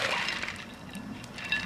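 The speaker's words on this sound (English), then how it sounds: "So I have this much ice. I'm just gonna dump it in." Ice dumped into a bucket of cold water for an Ice Bucket Challenge, a close, steady wet sloshing and splashing rush that swells again near the end.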